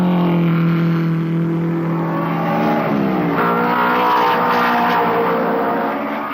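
Vintage 1950s German Grand Prix racing cars roar past, loud engine drone rising and shifting in pitch as they accelerate and pass close by, with a continuous dense mechanical growl throughout.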